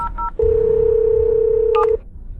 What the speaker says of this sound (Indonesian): Saya telepon Pak Zhao sekarang